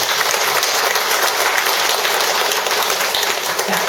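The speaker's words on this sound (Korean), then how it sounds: "모든 분들에게 박수 한번." Loud, dense applause from a crowd at a Buddhist school entrance ceremony, a continuous roar of clapping without pause.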